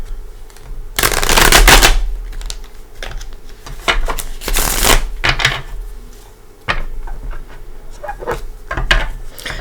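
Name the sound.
shuffling tarot cards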